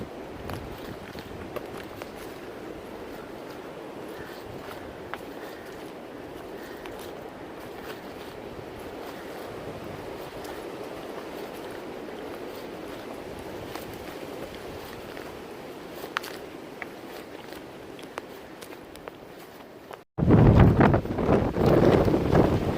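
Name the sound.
wind blowing through a gap on the Appalachian Trail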